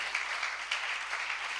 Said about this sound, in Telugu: గట్టిగా గట్టిగా కొంచెం గట్టిగా చప్పట్లు కొట్టిన మీరందరూ కూడా